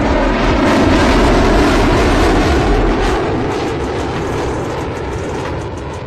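Sukhoi Su-30 MKI fighter jet performing an aerial stunt over an expressway at an air show, a loud, continuous roaring jet rumble that fades slightly toward the end.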